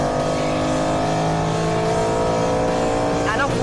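A Ford Mustang Boss 302 run flat out at Le Mans, engine roaring steadily and loud throughout with a rising revving tone near the end as it chases a Porsche 993 911.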